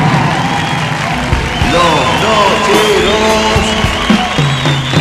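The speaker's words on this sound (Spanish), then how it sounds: "gracias por el aplauso" A concert audience applauds and cheers at a live show, a dense continuous wash of clapping and crowd noise, while a performer speaks and counts over it.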